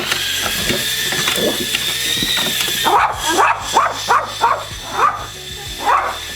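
A dog barks repeatedly, about half a dozen sharp barks in a loose rhythm, over a steady high mechanical whine of a mini FPV drone.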